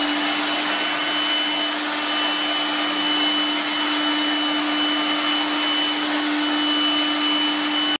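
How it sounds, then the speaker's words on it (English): A Lefant F1 small robot vacuum cleaner with 4000Pa suction running in super powerful mode, giving a steady, loud, unbroken motor whine and airy rush with a constant pitched hum throughout, no voices. "the robot vacuum cleaner makes 56 dB of noise in the super powerful mode"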